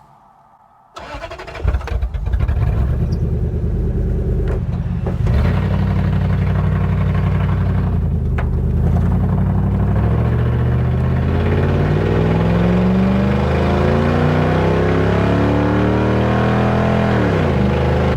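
A Toyota Hilux rig starts up with a sudden catch, then its engine drones loud and constant while towing, pitch climbing and wavering through gear changes, with no voices.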